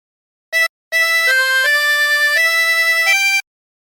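Tremolo harmonica playing a phrase of the hymn There's a River of Life, a short opening note and then a sustained run of wavering reedy tones stepping between pitches, clear and alone.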